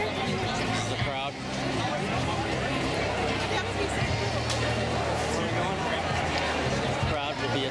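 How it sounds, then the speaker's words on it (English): Dense crowd babble at the 2015 Western & Southern Open tennis tournament just after a semifinal, many voices overlapping into a continuous hubbub with footsteps and movement close by. "The crowd."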